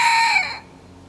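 A rooster crows nearby in a single loud, harmonic-rich cock-a-doodle-doo that cuts off after about half a second, leaving faint background hum.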